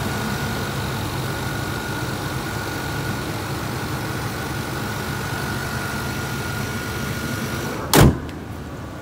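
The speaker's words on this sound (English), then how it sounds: "Nice fuel injected, throttle body, 305, running great." A 1992 Cadillac Brougham with a throttle-body fuel-injected 305 engine idles with a steady, even hum that runs throughout, then ends with a single sharp clunk like a door shutting.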